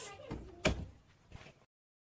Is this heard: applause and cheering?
no